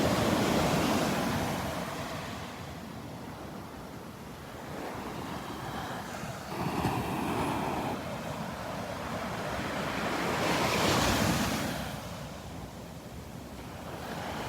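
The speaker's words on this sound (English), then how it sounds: "These waves are beautiful." Ocean waves wash and break along Barefoot Beach in North Naples, Florida, in steady rolling surges that swell and recede, with wind buffeting the microphone and no talking.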